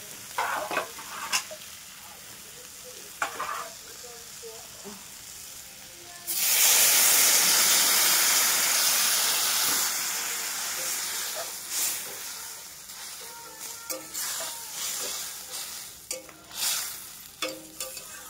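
Potatoes frying in a pan burst into a loud, steady sizzle and hiss when water is poured in, then settle into a quieter bubbling with intermittent stirring scrapes.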